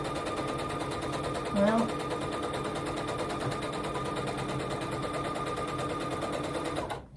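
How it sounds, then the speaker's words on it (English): A sewing machine runs continuously as it stitches a straight line, a steady fast mechanical whir that stops near the end. A voice speaks briefly over it. "I'm even having trouble sewing on a straight line."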